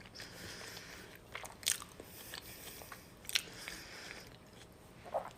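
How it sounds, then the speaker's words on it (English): Someone bites into and chews leftover Thanksgiving pie up close, with a few sharp crunchy bites standing out over soft, quiet chewing. "I'm having some pie that I didn't have earlier from Thanksgiving"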